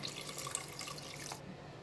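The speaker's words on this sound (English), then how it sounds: "Looks like it's not enough water. I'm just adding a little bit more." Water runs and splashes steadily from a tap into a rice pot, a soft, continuous pour at close range that cuts off near the end.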